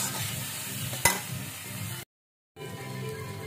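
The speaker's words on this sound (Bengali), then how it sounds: "এই যে মশলাটা দিয়েছি, টমেটোটা হয়ে যাওয়ার পর সামান্য নেড়ে দেবো" Tomatoes and spices for rasam sizzle steadily in a pan while being stirred, with a sharp clink of a utensil partway through and a brief moment of silence before the frying resumes.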